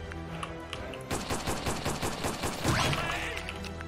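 A rapid volley of gunshots crackles in a dense burst, fairly loud, with a heavier impact near the end, no talk over it.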